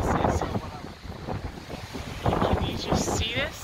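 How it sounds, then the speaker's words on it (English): Ocean waves crash and surge against lava rocks on the Oahu coast, a loud continuous roar of surf with heavy wind buffeting the microphone, no voices. "These waves are just spectacular."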